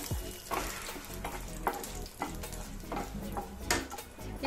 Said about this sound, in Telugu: ముందుగా ఆవాలు మినపప్పు జీలకర్ర ఇవి ఫ్రై అయినప్పుడు ఒక రెండు ఎండుమిర్చి అండి